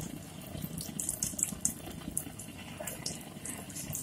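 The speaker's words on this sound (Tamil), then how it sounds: "எண்ணெய் காஞ்சிருச்சு, இப்போ நம்ம வந்து போட்டு எடுத்துடலாம்." Onion bonda batter bubbling and sizzling in hot oil, a soft, continuous crackle and hiss heard close but fairly faint, with no voice over it.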